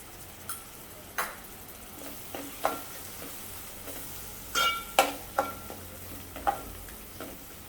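Turmeric and Agri masala being stirred into a curry frying in oil, for an Agri-style bombil, brinjal and potato rassa. A soft sizzle runs throughout, broken by irregular scraping and tapping of the spoon against the pan.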